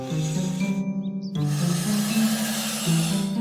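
A cartoon wolf blowing with all its strength at the three little pigs, a long forceful hissing breath over a sustained musical drone, briefly cut off and then resumed, loud and close.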